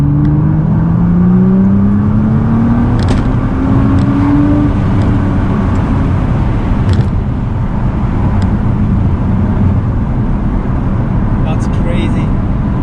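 A salvage-rebuilt Nissan GT-R on its first test drive, with steady interior engine drone and a rising rev whine that climbs then settles. Road roar stays constant, and people talk quietly over it.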